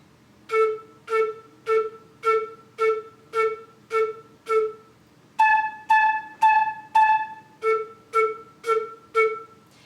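A run of short, evenly spaced flute notes, each sharply tongued, first at one pitch then higher, played alone in a steady rhythm.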